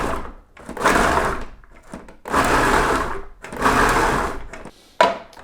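A food processor chops celery for carrot tahini soup in three loud, close pulses of whirring motor, each roughly a second long, separated by short pauses and clunks.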